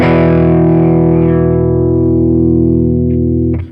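A distorted electric guitar rings out a sustained power chord from a song, loud and close with a long decaying tail, then cuts off abruptly near the end.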